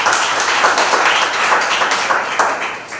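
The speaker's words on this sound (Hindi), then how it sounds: "एक जोरदार ताली बजाइए।" A church congregation at a Sunday service claps together, a dense, steady burst of many hands filling the room at close range for about three seconds.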